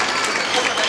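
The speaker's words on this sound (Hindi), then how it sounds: "डायनेमिक प्रिंसिपल, जोरदार ताली हो जाए।" A school audience applauds its principal, a brief, loud, dense burst of clapping from a crowd.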